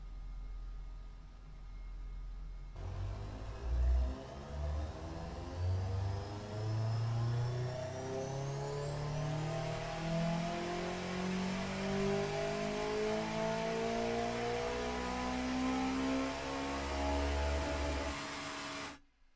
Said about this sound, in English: I'll let you hear the wonderful turbo whistle of the engine